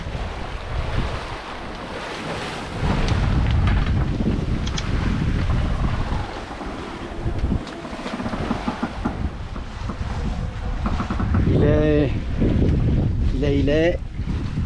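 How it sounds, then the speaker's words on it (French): A sailboat runs under full sails, jib and mainsail up, on a crossing from Puerto Rico to Nassau, Bahamas, with steady wind buffeting and water rushing along the hull, and a voice speaking briefly toward the end. "notre bateau, nous on est pleine voile"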